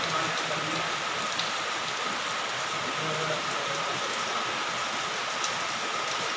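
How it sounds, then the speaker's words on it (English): Steady, continuous rain falls on a flooded street during a prolonged downpour, a dense even hiss that holds at the same level throughout with no voices. "It's continuously raining since yesterday, and here you see here."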